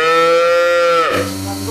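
A newborn black purebred calf, about a week old, moos in one drawn-out call. The cry is loud and close and holds steady before dropping to a lower, rougher tone near the end. No voices are heard.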